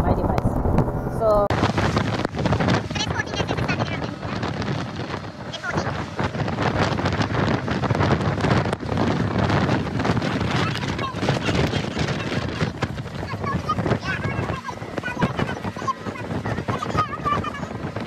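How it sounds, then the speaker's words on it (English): Heavy wind buffets the microphone in a loud, continuous roar of rumbling gusts that never lets up, on St. Vincent during flooding and a volcanic eruption, beside very rough water. "The water is very rough, but it's very windy"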